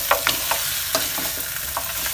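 Pork adobo (pata) braised with Sprite being stirred in a sizzling pan, steady frying hiss broken by repeated scraping spoon strokes, close and loud, no talking.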